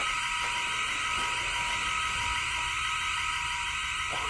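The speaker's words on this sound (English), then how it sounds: "Dude, the alarm is going off mad loud." A loud, continuous electronic alarm tone blares steadily throughout an abandoned bowling alley, piercing and unbroken, with faint rustling noises underneath.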